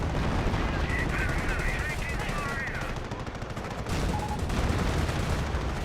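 Artillery fire in Company of Heroes, heard as a steady barrage of loud gunfire and impacts running across the whole stretch, dense and continuous, with a brief dip midway.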